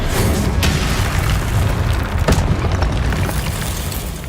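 A Confringo spell blast in a video game erupts as a loud, sustained booming roar, dense and continuous, with a sharper burst cutting through midway.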